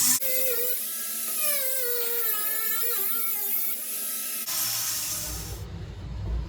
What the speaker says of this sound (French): Je vais essayer de claquer un coup de meule